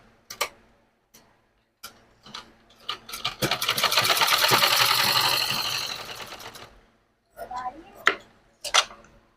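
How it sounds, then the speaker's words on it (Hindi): A sewing machine stitches a waistband strip onto a palazzo, opening with a few short taps before a sustained run of rapid, rattling stitching in the middle, then more short bursts. The sound is close and clear, with no talking. "और इसको ऐसे सिलाई लगा देती हूँ।"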